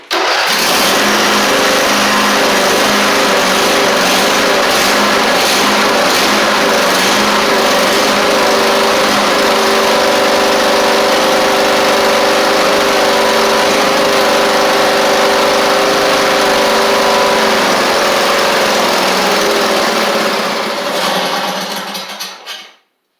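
The engine of a Husqvarna YTH24V48 riding mower runs loud and close in cold weather, a steady buzzing drone with a slightly uneven pulse that holds for about twenty seconds before cutting out and fading to silence.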